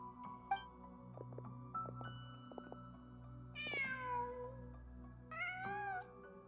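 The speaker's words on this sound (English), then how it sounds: "Just a cat." A cat in the game Genshin Impact meows twice, two clear, drawn-out calls a couple of seconds apart over quiet ambient game sound with a few soft clicks.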